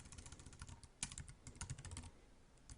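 Rapid keystrokes on a computer keyboard, a close, steady stream of clicks with a few sharper taps and no voices.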